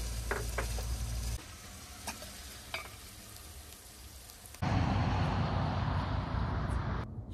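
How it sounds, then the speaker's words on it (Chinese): Potatoes fry in a wok with garlic, ginger and chili, giving a steady loud sizzle with scraping stir sounds that rise to a fuller hiss in the second half, close and without talk. "烧入土豆。"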